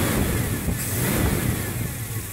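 A Ford Maverick with a flex fan and old-school power tweaks running with a rough, lumpy engine rumble, close and steady, with slight swells in revs.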